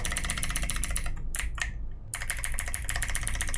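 Rapid computer keyboard clicks rattle on continuously, broken by a short pause with a few scattered taps before the fast clicking resumes, close up and fairly quiet.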